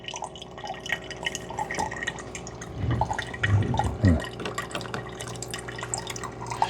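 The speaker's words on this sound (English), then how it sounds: "the carafe descale cycle is only a partial brew" Water drips and trickles steadily from a Keurig K-Duo Gen 2 coffee maker into a carafe during a descale cycle, a soft continuous patter with a few gurgles, close by.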